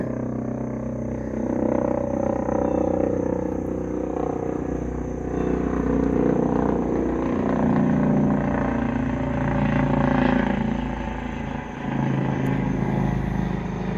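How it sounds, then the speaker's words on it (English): A low, rumbling drone of an aircraft passing overhead swells and fades in slow waves, continuous and moderately loud. "That is a plane or a helicopter or something."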